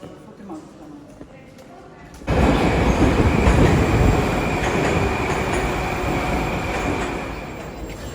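A Tashkent metro train in Uzbekistan on an older underground system: quiet ambience, then a sudden loud rushing rumble of the moving carriage with rattling wheels that continues steadily, with faint voices nearby.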